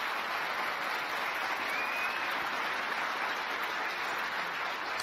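Sustained applause from a snooker crowd at the 2022 Turkish Masters, a dense even patter of clapping heard at a distance and held at a steady level throughout.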